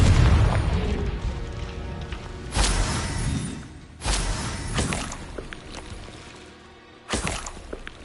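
Confringo explosion spells cast in Hogwarts Legacy, landing as three or four separate booming blasts a couple of seconds apart, each with a sharp onset and a rumbling, crackling tail.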